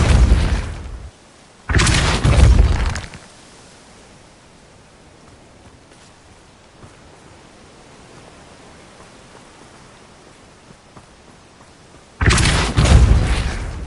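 A Repulso spell cast in Hogwarts Legacy, heard as loud broadband blasts near the start, around the two-second mark, and again at the end, with a quiet low rumble between them and no talk.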